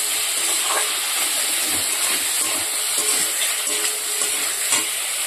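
Potatoes sautéing in a pan for a fish curry, with a dense steady hiss of frying and faint stirring scrapes running throughout.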